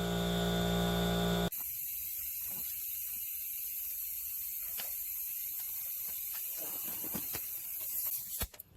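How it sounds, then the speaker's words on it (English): A hand ratchet tightens the rear brake caliper bolts on a 2017 Acura MDX with close, faint clicking over a steady hiss, ending in a few sharper clicks. "I'm just using my ratchet here to make sure those two bolts are tight."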